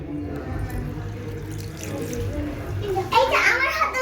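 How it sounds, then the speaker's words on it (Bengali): A child washes hands under a running tap, water splashing into a sink close by while a young voice speaks over it, with the flow growing brighter toward the end. "এই যে আমিও হাত ধুয়ে ফেলবো"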